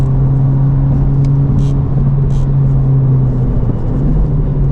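FL5 Honda Civic Type R with a COBB Accessport 93 tune driving on the Gingerman race track on Cup 2 tyres, heard from inside with windows up as a steady, loud engine drone and road rumble.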